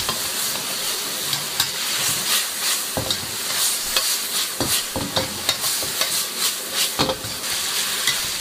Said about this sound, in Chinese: 用大火翻炒一分钟